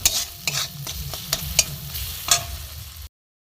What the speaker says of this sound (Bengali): ভালো করে একটু কষাবো একটুখানি